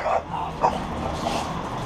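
A dog barks in short yips near a home workshop where a Honda CB750 engine is being assembled, with a few sharp bursts over a low background hum.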